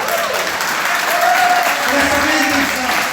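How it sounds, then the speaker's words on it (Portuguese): A church congregation at an entrepreneurs' worship service applauds together, a broad, sustained wash of clapping from many hands filling the room without pause. "Creia, aplaude."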